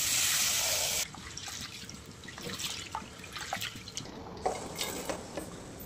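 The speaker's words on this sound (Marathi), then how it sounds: "सात ग्लास पाणी टाकायचं." Water pours into a cooking pot in a home kitchen while puran poli is being made, a loud steady rush for about a second, then softer trickles and scattered drips.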